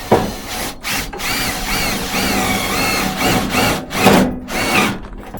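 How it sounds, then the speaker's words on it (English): Cordless drill driving self-drilling screws through panels inside a work van, a loud whirring spin-up and bite repeated in several short bursts with brief pauses between, no talking. "Now we'll get some self-drilling screws, get these panels in."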